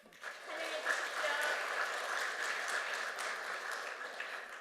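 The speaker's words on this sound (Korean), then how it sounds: "박수로 환영해 주십시오." Audience applause welcoming a speaker at a Korean community semester opening, a moderately faint, steady wash of clapping from a seated crowd that swells after a quiet start and holds evenly.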